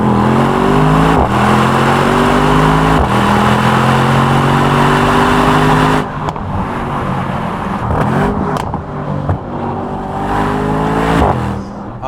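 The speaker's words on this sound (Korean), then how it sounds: "이런 식으로 으르렁대면서 박력 있는 배기음은 다른 제조사에서는 확실히 듣기 힘든 사운드인 것 같아요" Mercedes-AMG SL63 exhaust snarling loudly through repeated rev climbs, rising and dropping in pitch in several long pulls, then shorter blips with a deep rumbling growl close by.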